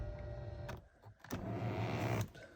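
An electric power seat motor in a 2003 BMW M5 interior whirs in short bursts as the seat adjusts, a faint close hum that stops and restarts with brief clicks.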